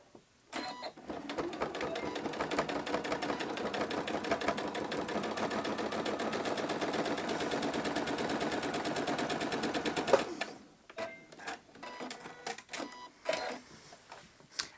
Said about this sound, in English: make sure that you back stitch at that V